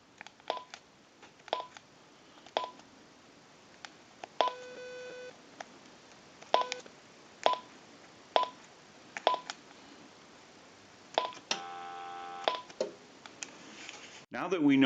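Verizon E 9020 cordless telephone dialing out, producing a series of short DTMF keypad tones in irregular bursts, with a couple of longer multi-tone stretches, fairly close and clear over a quiet background.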